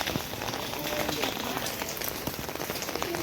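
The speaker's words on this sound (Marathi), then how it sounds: "पाऊस चालू आहे" Rain falls steadily and heavily onto surfaces nearby, a dense, continuous patter with scattered louder drops.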